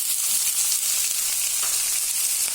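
Onion sizzles in hot oil in a pan while upma is being made, a steady, close hiss of frying without a break.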